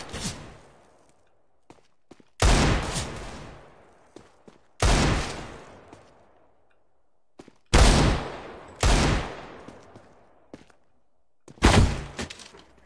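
Gunfire from a video game match playing on screen, several separate loud bursts of shots with echoing tails spaced out between quiet gaps.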